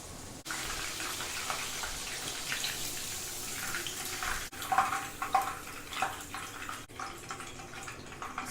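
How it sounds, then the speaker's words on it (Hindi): Chicken pieces frying in a pan, a steady hiss and crackle close up that swells and flares in bursts, with a few sharp breaks and no talking. "इसी तरह बचे हुए सारे चिकन को फ्राई कर लेते हैं।"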